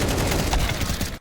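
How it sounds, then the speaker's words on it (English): Rapid gunfire in Counter-Strike 2, a dense continuous burst of overlapping shots filling the whole clip at close range, then cutting off abruptly at the end. "you commit to shooting way too fast, man"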